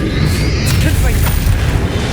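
A Confringo spell explodes during a Hogwarts Legacy duel, a loud, deep boom that rumbles on under sparkling, whooshing magical effects.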